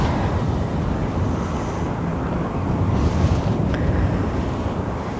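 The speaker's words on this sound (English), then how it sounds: "You can see it's kind of a windy day and it's been raining on and off." Wind roars steadily on a windy, rainy day outdoors, a loud broadband rush buffeting the microphone for the whole stretch, with no voices heard.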